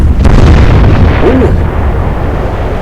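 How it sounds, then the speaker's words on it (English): A warship's magazine detonates during a naval battle in Atlantic Fleet, a loud, booming explosion that rolls out into a long, fading rumble. "Magazine detonation!"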